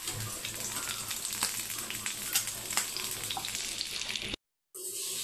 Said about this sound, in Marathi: एक एक चाप आपण आता फ्राय करायला टाकूया।